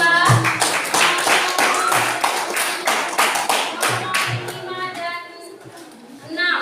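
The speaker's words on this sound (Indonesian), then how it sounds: "kita beri aplaus untuk kelompok 2" Students in a classroom give group 2 a round of applause, a run of brisk, close claps that thins toward the end as a voice begins talking.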